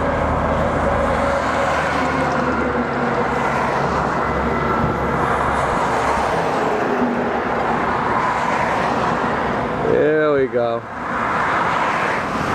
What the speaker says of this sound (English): That's a nice bunch of trucks.